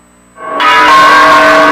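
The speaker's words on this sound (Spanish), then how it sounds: "Las campanas sonaron" Church bells ring out loudly in El Salvador after a celebration for Monseñor Óscar Arnulfo Romero, swelling in suddenly from near silence into a sustained, resonant peal.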